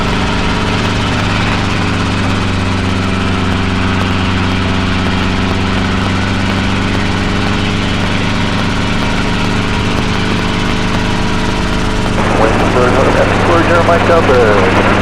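A training helicopter climbs out, its engine and rotor giving a loud, steady droning roar with constant low hum throughout, shifting slightly near the end.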